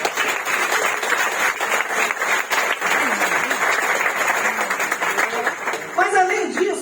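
A church congregation applauds steadily for several seconds, a dense wash of clapping with murmured voices mixed in and a few louder cheers near the end.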